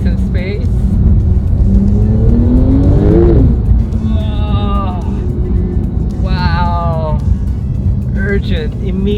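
Turbocharged sports car accelerating hard in second gear, a loud continuous engine roar that rises in pitch and then drops at a shift, heard from inside the cabin with a person talking over it.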